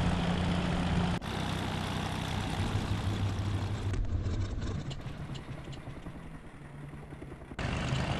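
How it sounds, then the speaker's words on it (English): Helicopter blades thumping in the video game DayZ, a steady low rotor drone that holds throughout and eases slightly toward the end. "I'm hearing freaking helicopter blades again."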